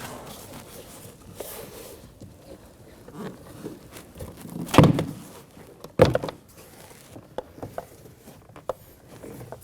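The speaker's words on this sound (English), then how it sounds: "We're going to pry onto the door and we're going to work our way up." Interior front door panel on a 2017-2024 Nissan Armada being pried loose, with two sharp plastic pops standing out over quiet, scattered scraping and handling clicks.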